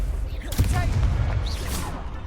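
A fiery spell blast booms in a Hogwarts Legacy duel, with a loud burst of explosive impact amid thick low rumble and game battle noise, lasting just a couple of seconds.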